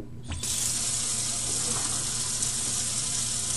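A tap turns on after a brief pause and water runs steadily and loudly into a sink, a constant rushing stream.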